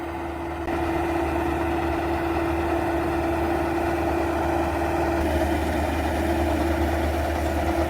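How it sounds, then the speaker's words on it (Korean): A Yanmar tractor drives itself in autonomous mode, its engine giving a steady, even drone with a constant low hum throughout and no talking. "현재 이 얀마 트랙터는 어, 자율주행으로 지금 운행을 하고 있습니다."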